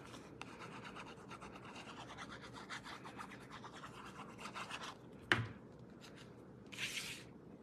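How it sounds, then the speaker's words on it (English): A stamped paper panel is pressed and rubbed down onto a card base in a papercraft project, making faint, soft continuous rubbing with one sharp tap near the end. "I'm gonna adhere this down to my card base."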